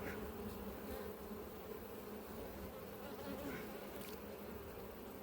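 Steady, dense buzzing of many honeybees close by around an apiary hive, a continuous droning hum with no voices.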